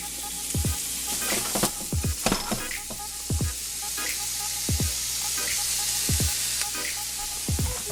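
Lobster meat sizzling steadily in a hot pan, a constant bright hiss and crackle with occasional louder pops and low clicks of utensils, no voices.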